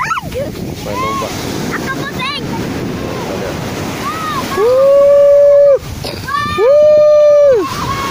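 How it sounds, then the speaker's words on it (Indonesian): Ocean surf on Tambak Rejo beach in south Blitar, Java, a steady wash of waves and wind buffeting the microphone, with a voice talking briefly and two long sustained tones partway through. "Ombak pantai selatan"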